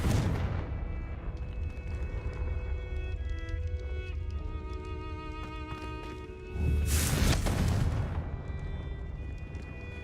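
Confringo spell explosion in the video game Hogwarts Legacy, a single loud burst midway after steady game music and ambience, followed by a rumbling decay.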